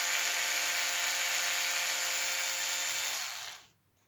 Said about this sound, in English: I just find electric screwdriver is just, yeah, just saves a bit of time.